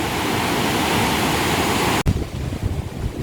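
Roaring mountain river in Uttarakhand, a loud, dense, continuous rush of churning water close by, broken by a brief dropout before the torrent resumes slightly rougher.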